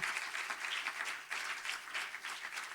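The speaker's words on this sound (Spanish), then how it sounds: "Denle un aplauso al Señor." Applause from a church congregation at a worship service, steady dense clapping that swells and ebbs in waves over a few seconds, fairly distant and with no voices on top.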